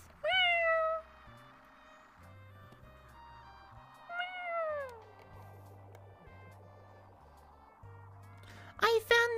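A voice imitating a cat, giving a drawn-out meow with a falling pitch and then a rising questioning meow, backed by soft steady electronic music, with a brief louder burst at the end.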